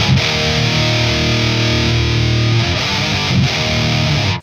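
Electric guitar played through a budget amp with a solo volume boost engaged, giving a loud, sustained, distorted tone with held chords that ring continuously before cutting off at the end.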